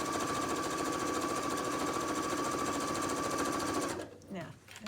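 Sewing machine stitching through two layers of apron fabric, a fast steady mechanical whirr running continuously up close before stopping abruptly near the end, leaving quiet handling noise.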